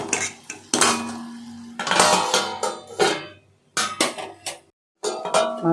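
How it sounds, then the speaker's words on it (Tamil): A metal spoon scrapes and clinks against a pan of banana stem stir-fry, followed by the clatter of a lid being set back on, loud and close, in irregular bursts with short pauses. "கிளறி விட்டுட்டு மறுபடியும் மூடி வைங்க"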